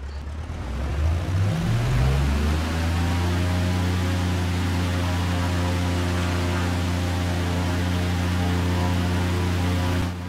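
A Bulldog autogyro's engine throttles up for takeoff, the tone rising sharply over the first couple of seconds before settling into a loud, steady droning roar close by.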